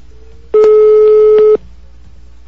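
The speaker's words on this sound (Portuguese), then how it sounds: "Vou ligar aqui em outro aparelho." A telephone busy signal heard while calling from another phone: one loud, steady electronic tone lasting about a second, then quiet, with a short click at the end.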